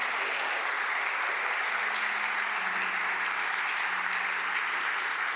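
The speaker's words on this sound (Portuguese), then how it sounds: "Aplauda e glorifica ao Senhor." A church congregation applauds in a steady, continuous wash of clapping, moderately distant and even in level, with a faint sustained tone underneath.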